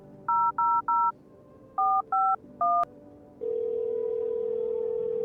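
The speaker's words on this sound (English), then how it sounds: "Let's call FEMA." Touch-tone keypad beeps from a phone in the video game No, I'm Not a Human: six short dialing tones in two quick groups of three, followed by a steady, loud dial or ringing tone, with no speech.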